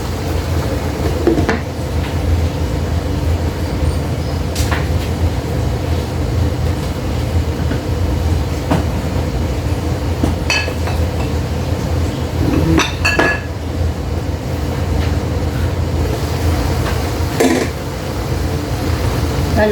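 Sautéed vegetables are stirred in a pan with oyster sauce, a low steady cooking hum broken by scattered metallic clinks and scrapes of the utensil against the pan.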